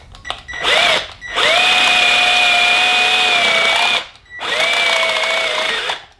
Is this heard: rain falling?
no